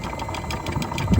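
An engine held at a steady, throbbing run with a slight surge near the end as more throttle is given, close and moderately loud over a short moment, with no speech.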